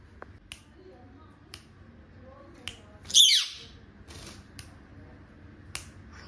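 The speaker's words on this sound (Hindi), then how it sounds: "छोटू सीटी बजाओ, बजाओ सीटी।" A pet parrot whistling on command gives one short, bright, high whistle near the middle of the clip, set among quiet room noise, scattered clicks and a voice in the background.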